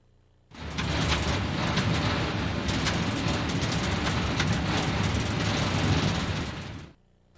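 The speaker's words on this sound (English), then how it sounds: "had a view of the train coming from the Rigby Yard and heading toward the Scarborough Marshes" A train passes from Rigby Yard toward the Scarborough Marshes near an overpass in South Portland, Maine, its broad rumble rising abruptly, holding steady and loud with clanking wheels, then cutting off.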